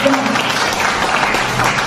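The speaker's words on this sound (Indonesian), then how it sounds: "ya tepuk tangan buat Tuhan Yesus" Church congregation applauding for Jesus, a dense, loud burst of clapping with voices mixed in throughout.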